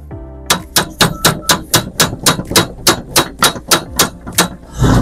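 A hammer taps gently on a metal generator part: about fourteen crisp, evenly spaced strikes at close range, loud and ringing, with no voices.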